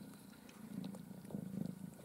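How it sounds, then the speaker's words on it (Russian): Kittens nestled with their mother make a soft, close, rhythmic purring, quiet and steady throughout. "Вот какие красивые у нас котятки у Надюши"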